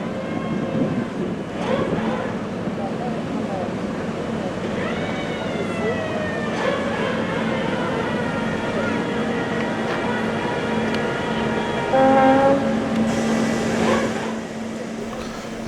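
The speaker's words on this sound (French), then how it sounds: "il n'a pas arrêté les moteurs, je pense" A large ferry boat on a trip in Greece, its engines left running. A steady low engine drone runs throughout beneath voices, with rising wavering tones and a brief louder tone near the end.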